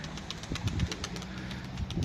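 Dumanlı pigeon flying in and arriving outdoors, with soft fluttering wing beats and a faint coo-like murmur over a low rumbling background.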